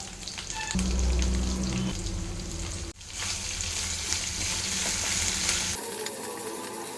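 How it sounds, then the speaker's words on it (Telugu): Onion, green chili, carrot and capsicum frying in oil, a loud continuous sizzle with a brief scrape partway through, then the sizzle fades low near the end. "వెజిటేబుల్స్ అన్నీ మగ్గిపోయినాయి కదండి, మంచిగా ఫ్రై అయినాయి ఆయిల్లో"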